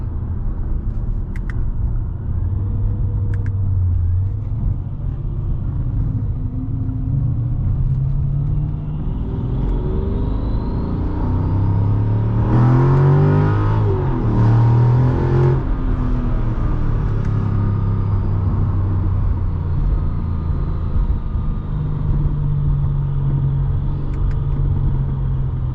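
A 2006 Mercedes-Benz E55 AMG W211 drives along with a continuous deep, loud engine rumble. The engine note swells into a brief harder surge of acceleration midway, then settles back to steady cruising, with no talking.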